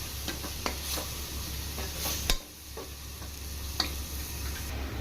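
Coconut paste frying in a pan for hotel-style mixed vegetable kurma gives a steady, moderate sizzle, with occasional sharp clicks and scrapes from stirring. One brief louder crackle breaks in midway.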